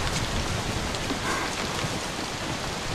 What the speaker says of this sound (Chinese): 鬼天气，怎么说下雨就下雨？